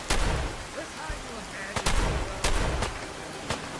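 Gunfire in Fallout 4: sharp, loud shots and booming blasts in an irregular sequence over a rough, noisy background.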